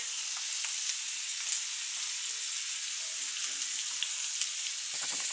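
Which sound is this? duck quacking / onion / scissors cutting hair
onion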